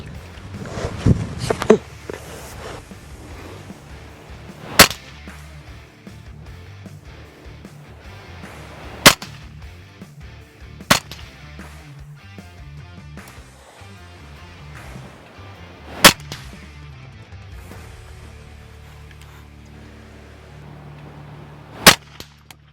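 Single rifle shots fired at targets 20 to 70 meters away, a scoped long gun at moderate zoom, each a sharp loud crack spaced several seconds apart, five or six in all over a low murmur of talk and handling noise.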